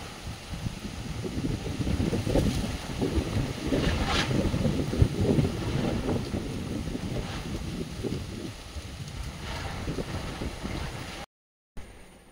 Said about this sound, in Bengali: তো এখন ঝড়ের আওয়াজ প্রচুর